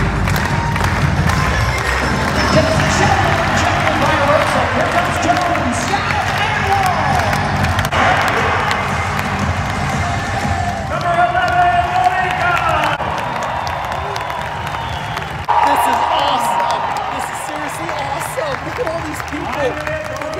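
Basketball arena crowd at a University of Louisville game at the KFC Yum Center in Louisville, Kentucky, applauding and cheering a girl singer; a dense, steady roar of clapping and crowd noise fills the whole stretch, close and loud, with voices mixed in.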